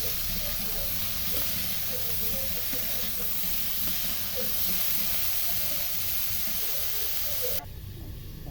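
Tengra fish curry being sautéed in a pan with salt and turmeric gives a steady, loud hissing sizzle that runs on without a break and drops away sharply near the end.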